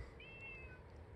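A cat gives a single short meow indoors, faint and somewhat distant, followed by a brief sharp click near the end; no one speaks.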